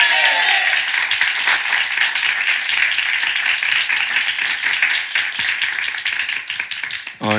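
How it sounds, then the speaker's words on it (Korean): A church congregation claps together during a Sunday morning worship service, a dense, steady wash of applause filling the room for several seconds before thinning out at the end. "먼저 우리 하나님께 박수로 영광을 올리겠습니다."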